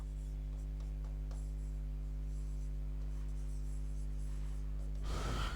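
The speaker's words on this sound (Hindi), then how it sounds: "ये थोड़ा सा मैं इसको फिर से लिख देता हूँ।" Chalk or marker scratches across a board during a biology lesson, soft intermittent strokes over a steady low electrical hum, ending in a brief louder rustle.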